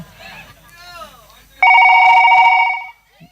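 A telephone rings loudly in one sustained electronic burst after a stretch of talking, then cuts off into near silence with a faint click.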